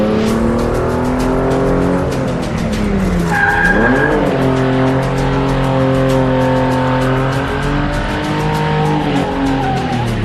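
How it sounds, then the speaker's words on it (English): A car doing donuts around the inner lip of a box, engine droning loud and steady with drawn-out tire squeal that rises and falls through the spin. "back on throttle, and start to do donuts around the inner clip of the box"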